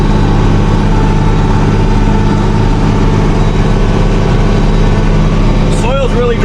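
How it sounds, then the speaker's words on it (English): A tractor drags a plow through a dry hay field up a ridge, its engine droning loud, low and steady under heavy load, and a brief high chirp comes through near the end. "Tractor's working a little bit harder."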